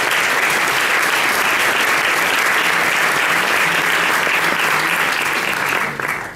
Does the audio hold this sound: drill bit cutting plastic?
no